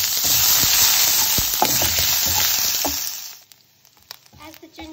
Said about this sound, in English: Now I'm just going to add the ginger paste and give it a good stir.